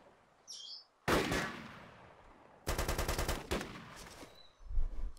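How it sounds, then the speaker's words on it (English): Suppressed MP5 SD fire in the Arma II video game, heard as two fast bursts of clipped, rapid shots, each lasting over a second, with a brief chirp before them and a low thump at the end. "That's literally the sound it makes, that's it. Is that? Because it's the MP5 SD."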